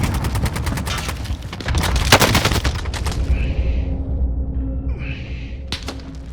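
Rapid bursts of automatic gunfire in the battle royale game Call of Duty: Warzone, dense and loud through the first half, then thinning to a few scattered shots amid quieter game ambience.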